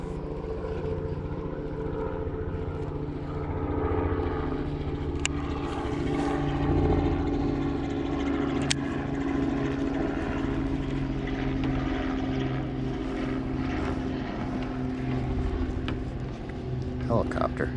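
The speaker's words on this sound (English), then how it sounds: "Helicopter." A continuous, fairly loud engine and rotor drone hums steadily throughout as a helicopter passes overhead at Lake Cumberland.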